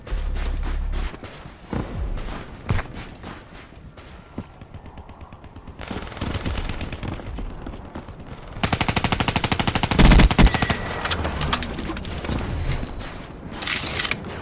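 Rapid bursts of automatic gunfire from a shooter game played on a PS4 controller, loud and close, with dense rattling volleys and scattered single shots, growing heavier and more sustained toward the end.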